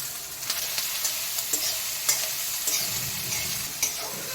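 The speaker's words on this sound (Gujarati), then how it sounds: "કેપ્સિકમ, મરચાં, કોબીજ અને ગાજર આ બધી વસ્તુને મેં ઝીણી ઝીણી ચોપ કરી લીધેલી છે અને આપણે તેલમાં સોતે કરી લઈશું." Finely chopped capsicum, chillies, cabbage and carrot sizzle steadily in hot oil, with repeated sharp scrapes and clicks of a spoon stirring the pan throughout.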